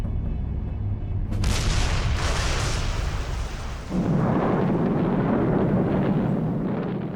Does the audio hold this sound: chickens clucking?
no